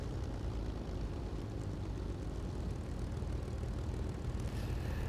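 A propeller airplane engine in the War Thunder video game throttling back before landing: a steady, even engine drone with broad noise and no clear peaks, constant in level throughout, with no voices.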